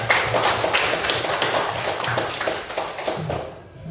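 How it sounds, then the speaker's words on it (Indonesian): A classroom of students applauds the groups at the end of a lesson, with steady, dense clapping that fills the room for several seconds before trailing off. "Mari kita berikan aplaus untuk 4 kelompok"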